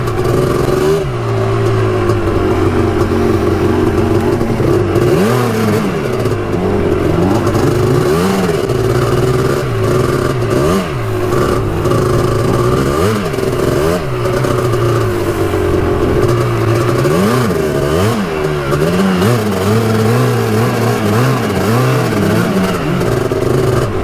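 A Kawasaki KX125 two-stroke dirt bike revs hard on a motocross track, its engine note rising and falling steadily and loudly throughout, with no talk.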